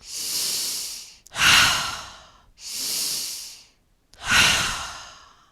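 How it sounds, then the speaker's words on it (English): Deep breathing during the Five Tibetans exercise, three slow cycles of long hissing inhales alternating with fuller, forceful exhales, close and loud with no talk. "take 3 big breaths"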